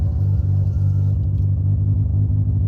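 A car engine hums steadily from inside the cabin while driving, a low continuous rumble with slight throttle variation and no speech; the throttle bearings sound worn.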